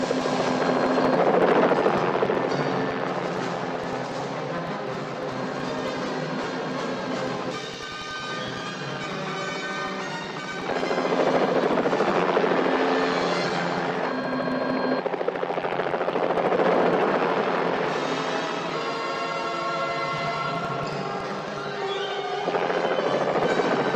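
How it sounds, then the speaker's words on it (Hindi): A loud helicopter drone with throbbing rotor and whining engine tones, swelling and easing over a long stretch with no talking. "पायलट हेलीकॉप्टर घुमा लो,"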